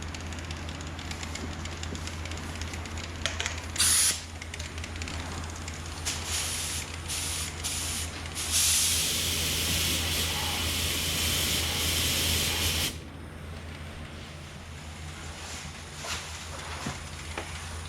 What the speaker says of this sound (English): So we're just gonna go ahead and get our first coat of base coat put on.